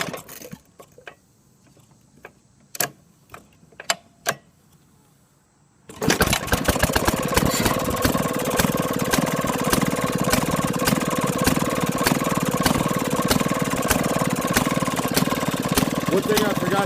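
1937 Maytag 92 gas engine running, a rapid steady close popping chug that starts abruptly after a few scattered clicks and knocks, with a person speaking over it.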